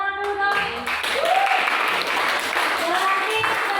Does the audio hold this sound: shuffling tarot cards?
no